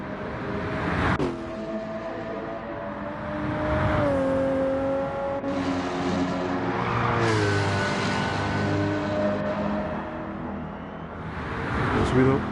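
Race car engines roar steadily through a weekend event replay at the Défi de Provence, with a rising and falling engine note, a car passing, faint tire noise and a commentator talking over it.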